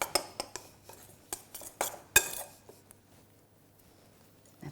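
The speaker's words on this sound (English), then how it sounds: "we'll just start off by giving it a stir with a knife or a fork" A knife or fork stirs pastry dough in a bowl for a lemon and lavender tart, giving a string of sharp metallic clinks and scrapes against the bowl, close and spaced irregularly before trailing into quiet.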